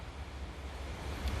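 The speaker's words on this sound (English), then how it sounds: "Check out that wind." Strong wind gusting outdoors in dreary, cloudy weather, a steady low rumble of buffeting air across the microphone with a louder gust near the end and no voices.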